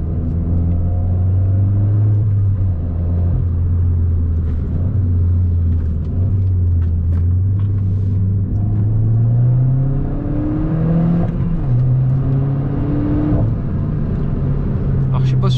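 A car engine revs up and down repeatedly, rising and falling in pitch, with a few faint exhaust crackles and a voice talking over it.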